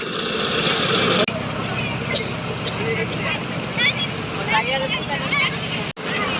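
A crowded passenger boat cruising on the Kaliganga river gives a steady engine drone and rushing wind and water. Someone talks over the noise, with a few brief bumps along the way.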